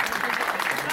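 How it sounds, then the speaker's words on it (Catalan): A festival crowd at the Fira Sant Antoni applauds for about a second, a dense, close burst of clapping mixed with voices. "Un fort aplaudiment!"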